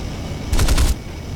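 Guns firing on an F9F-2 Panther jet in a flight combat video game, a single short, loud burst of rapid gunfire lasting under half a second over steady background noise.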